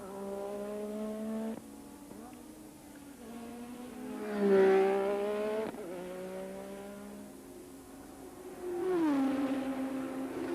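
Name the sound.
racing cars at Belgian Grand Prix, Spa-Francorchamps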